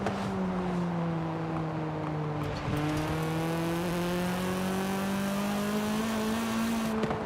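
A VTEC car engine in the video game Forza Horizon 5 revs under steady throttle, a strong droning tone whose pitch dips and then climbs gradually, with no voices.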